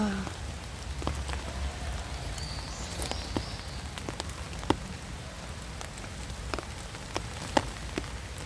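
Steady rain pours down on a wooded hillside feeding spot in a heavy rainstorm, a dense continuous patter with scattered sharper drops striking nearby surfaces.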